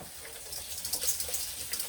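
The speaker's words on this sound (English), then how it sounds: "Cold water on." Cold tap water runs steadily from a faucet into a rice strainer in a home kitchen, a soft continuous hiss and splash with no talk.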